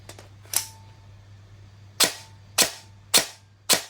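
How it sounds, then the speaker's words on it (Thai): A toy gun with its magazine inserted gives five sharp, loud snapping clicks, one early and then four in quick succession spaced about half a second apart, close by, with near silence between them. "มันก็จะกึกกึกกักกักพอเราใส่แม็กกาซีน ปุ๊บ"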